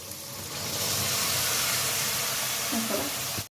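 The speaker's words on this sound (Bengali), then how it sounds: "এবার সেদ্ধ ডালটাকে আমি দিয়ে দিলাম।" Boiled mung dal poured into a hot pan sets off a loud, continuous hiss and sizzle that holds steady, then cuts off abruptly.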